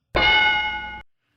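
A single bell strike rings out, loud and close, with a bright metallic tone that sustains for nearly a second and then cuts off.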